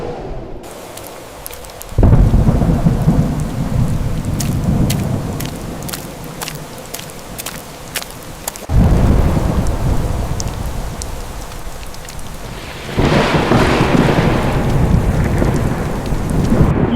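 Thunderstorm with steady heavy rain, rolling thunder swelling at several points, loud and close, with no voices.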